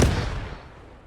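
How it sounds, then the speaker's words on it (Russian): A single grenade blast in the Post Scriptum war game, a loud close boom with a long rumbling decay, heard alone without voices. "Кто взрывает гранаты?"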